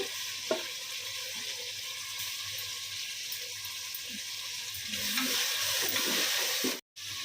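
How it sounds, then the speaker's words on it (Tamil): Mint and coriander frying with ginger and garlic for mutton biryani make a constant close sizzle with light stirring scrapes. Near the end the sizzle swells, then a brief gap cuts it. "இஞ்சி பூண்டு ஸ்மெல் போகிற வரைக்கும் லைட்டாக வாட்டிட்டு, இப்போது புதினா 1 புடி, கொத்தமல்லி 1 புடி"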